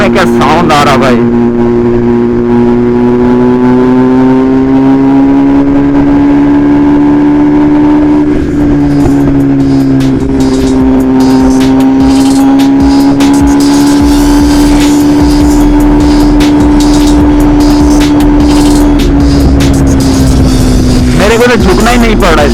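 A BMW S1000RR motorcycle fitted with an Austin Racing exhaust drones close and very loud with a steady engine tone. Revs lift slightly at intervals, a voice talks over it, and the engine drops away near the end.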